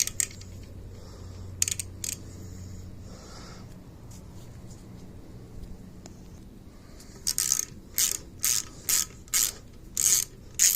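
Ratcheting clicks from a hand wrench loosening old, crusty bolts on a truck front axle, starting with a few scattered clicks and ending in a close, loud run of about eight rhythmic ratchet bursts, with no talking.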